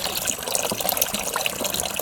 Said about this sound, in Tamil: அப்படியே ஊற்றிட்டு கிண்டணும்.